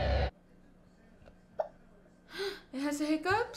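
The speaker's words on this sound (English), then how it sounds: "It has the hiccups?" An animal gives two or three small, sharp hiccups, faint and spaced apart in an otherwise quiet stretch, followed by people talking and reacting.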